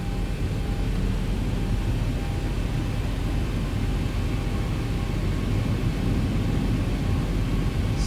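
Boeing 737-800 engines in the X-Plane 12 simulator spooling up, a steady loud low roar and broadband rumble with a faint whine, holding constant throughout without voices.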